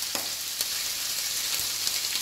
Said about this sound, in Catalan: Aquest all s'ha daurat i ara anem amb la ceba,